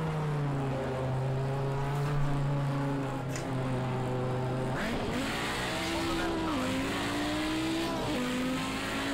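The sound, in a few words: race car engine and tires in Project Cars 2 video game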